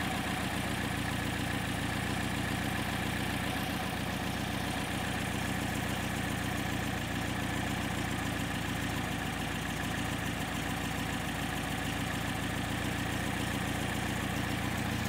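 A Porsche 356 engine with Solex 40P11 carburetors idles steadily, a constant low mechanical hum and rumble that holds even throughout, with no speech.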